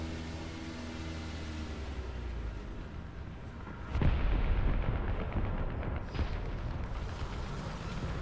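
A bomb explodes in the War Thunder tank game, a sudden loud boom that rolls into a long rumbling decay over a steady engine drone, followed by a second, weaker thud.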